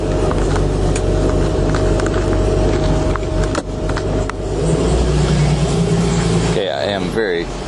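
Gunther Werks Porsche 911 with a performance-oriented build rumbling steadily at low speed while reversing out of a driveway, a continuous close engine drone beneath ongoing talk.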